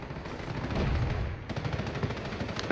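Gunfire from a unit in the Company of Heroes strategy game, a dense burst of rapid shots at fairly close range, continuing with a second volley after a brief dip.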